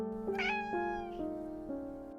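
A cat meows as a radio-drama sound effect: a drawn-out, close, tonal meow with several falling pitch steps, heard alone without any talk.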